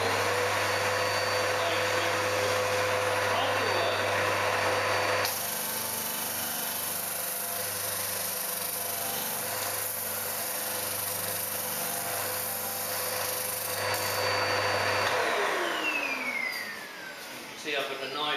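A disc sander runs loud and steady as it rounds a corner of a piece of wood, with a strong constant motor whine and grinding hiss throughout, the motor note dropping in pitch as it winds down near the end.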